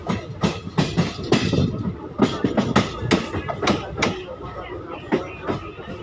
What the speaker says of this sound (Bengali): আমাদের ট্রেন এখন ছেড়ে দিল ওল্ড মালদা জংশন স্টেশন থেকে